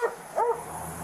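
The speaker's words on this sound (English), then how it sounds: "I hear the dog in the back." A dog gives a couple of short barks, one right after the other, moderately close and clear against a quiet background.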